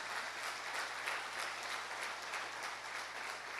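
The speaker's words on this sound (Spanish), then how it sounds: "¿Qué tal si le damos un aplauso al Señor?" A church congregation at a Spanish-language family worship service claps together in steady, sustained applause, a dense even patter that holds at one level from start to finish with no voices standing out.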